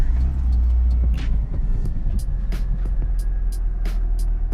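A Renault Clio 172 engine starts and settles into a steady, close idle rumble after a new tuning map is installed, with a few clicks and knocks over the running engine.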